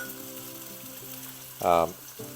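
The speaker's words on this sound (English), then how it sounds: "we have our little pan with lots of oil, and we're gonna start frying our onions" A sudden burst of sizzling as onions hit plenty of hot oil in a pan, loud and close for a moment against a quiet steady hum, then fading.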